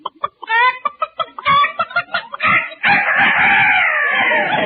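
A rooster crows loudly and close, starting with choppy clucking notes that build into a long, strained, rasping cock-a-doodle-doo, with no talking.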